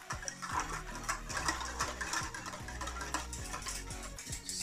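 A whisk scrapes and clinks rhythmically against a pot of strawberry ice cream custard base warming over very low heat, a steady brisk metallic ticking that continues throughout with no voices.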